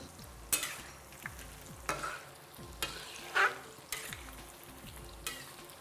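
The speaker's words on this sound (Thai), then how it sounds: "เรามาทอดหมูกันก่อน ซี่โครงหมูของเรา ที่ได้ทำการออสโมซิสเตรียมลงกระทะ" Pork ribs frying in a pan: a constant hiss of sizzling oil broken by repeated scraping stirs and clinks of a utensil, close and fairly quiet, with no voices.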